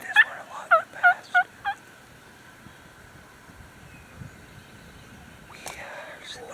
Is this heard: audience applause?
no